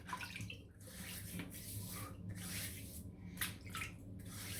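Tap water runs steadily for a few seconds as whiskers are wetted for a cold-water shave, a continuous splashing wash fairly close by with small drips and squishy hand movements, no voices.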